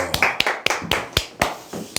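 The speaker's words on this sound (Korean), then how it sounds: "네, 박수!" Sharp hand claps in a quick, slightly uneven series of about eight, close and crisp with nothing else around them, as a host calls for applause before a talk on insurance telemarketing.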